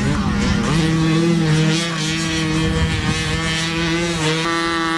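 Suzuki enduro motorcycles labour through boggy ground in the 1994 Powys Enduro, a loud, close engine drone that rises and shifts pitch steadily, with another bike's tone layered in and a brief word of commentary.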